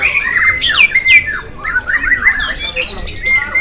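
Songbirds sing and squawk at a bird singing contest in Singkil, with overlapping bright chirps, trills and sharp calls crowding the air, close and lively over a low crowd murmur.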